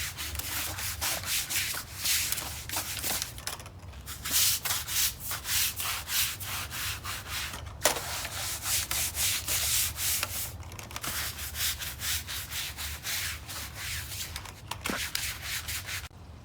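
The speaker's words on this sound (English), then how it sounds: "Then I just take my brush and start" A stiff brush scrubs the exposed steps of a swimming pool being opened, a continuous rough rasping in rhythmic back-and-forth strokes with brief pauses, close and loud.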